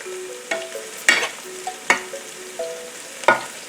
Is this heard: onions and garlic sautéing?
yes